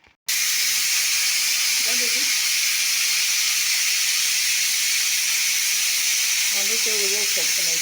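A pressure cooker holding drumsticks and water vents steam in a loud, continuous hiss that starts abruptly and runs unbroken, with faint tonal whistling tones rising near the start and again toward the end.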